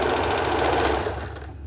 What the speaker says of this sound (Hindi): इसे दबाते हुए और एक फिनिशिंग की सिलाई डालते हैं।